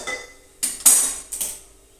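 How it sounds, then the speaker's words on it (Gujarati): A metal utensil mixes food in a pot during home cooking, giving a few loud, sharp clanks and scrapes in quick succession, close and alone. "બરાબર મિક્સ કરી લઈશું"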